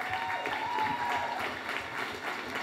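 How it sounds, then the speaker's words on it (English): Applause from an audience at an Orlando social media masterclass session, a steady wash of clapping filling the room, moderately loud and continuous, with a faint tonal hum running through the first half. "Let's give a giant round of applause to Shane Burgman"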